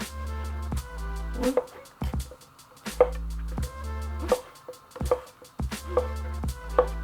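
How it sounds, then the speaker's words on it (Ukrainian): Mushrooms being cut into pieces with a knife on a board, several crisp knife strikes spaced about a second apart over a constant low hum. "І тепер довільними шматками нарізаю далі."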